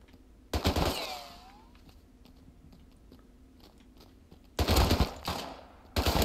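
Bursts of automatic gunfire in the video game Rust: a rapid volley near the start, then two more loud, fast strings of shots toward the end, separated by quiet ambient game noise.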